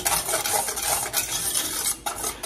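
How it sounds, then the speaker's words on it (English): A whisk scrapes and swirls briskly through banana pudding ingredients in a metal pot, a close, continuous rhythmic clatter with no talking. "I'm just basically whisking what's here in the pot"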